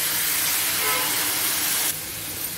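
Water splashed into a hot pan of frying onions and drumsticks with rock salt gives a loud, steady broadband hiss of sizzling steam that drops abruptly to a softer simmer near the end.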